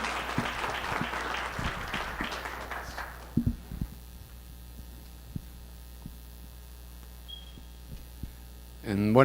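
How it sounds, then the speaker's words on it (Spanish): Brief applause from a seminar panel audience, a short burst of clapping that fades quickly into a quiet room with steady electrical hum and a few scattered sounds. "Bienvenido. Un aplauso,"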